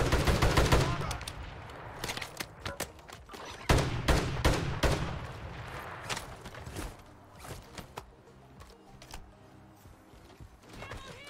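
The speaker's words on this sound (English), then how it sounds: "People are shooting, they're not marking where they're shooting" Gunfire in the video game Call of Duty Warzone, a mix of loud close shots and scattered distant bursts with irregular pops, fading to sparser reports later.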